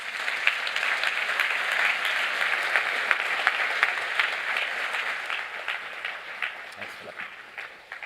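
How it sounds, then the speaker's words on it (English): Steady, dense audience applause fills a conference hall at the Ubuntu Summit 2023, a continuous crowd of clapping hands holding at an even, fairly loud level for the whole stretch before tapering slightly at the end. "Please give a round of applause to Mark Shuttleworth."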